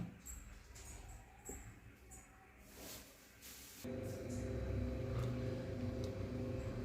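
A mixer grinder grinds green chili and other ingredients into a paste, a loud steady motor whir with a rattling hum that starts abruptly partway through after quieter kitchen sounds.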